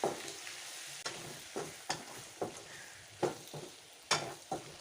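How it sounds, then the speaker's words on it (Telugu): Raw chicken is mixed with masala, yogurt and squeezed lemon: repeated wet, squelching stirring strokes, about eight of them at a fairly steady rhythm, close and moderately loud, with no voices. "ఇప్పుడు ఈ మసాలాలన్నీ చికెన్లో కలిసేలా కలుపుకోవాలి."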